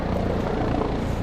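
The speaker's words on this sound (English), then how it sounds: "What is it, a helicopter over our head now?" A helicopter passing overhead outdoors at Union Station in St. Louis during a live charity-day broadcast, a loud steady rotor rumble and thrum filling the whole short moment.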